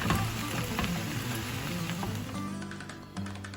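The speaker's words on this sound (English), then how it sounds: "while I'm sauteing and browning the beef and the onion" Beef and onion sautéing and browning in a pan, a steady close crackling sizzle with faint scraping and clicks running throughout.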